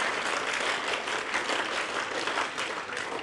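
An audience at a university event breaks into a rhythmic group clap, heard as a steady, moderately distant wash of many hands with no talk over it.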